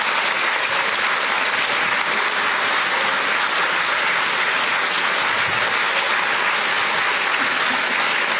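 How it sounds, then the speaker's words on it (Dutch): An audience at a political evening event in Amsterdam breaks into sustained applause, a loud, dense and even roar of clapping hands that continues unbroken throughout. "Ja, dan mag je even applaudisseren."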